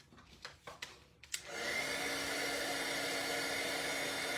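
A heat embossing tool melts embossing powder on a paper butterfly craft piece: a few light taps, then a loud steady blowing hum that switches on and runs continuously.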